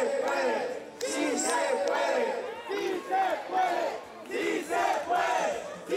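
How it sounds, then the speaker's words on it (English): Spectators at the 2017 Strongman Champions League World Finals shout and cheer in support during a forward hold, a loud continuous crowd roar with surging peaks of yelling throughout. "Plenty of support from the watching crowd"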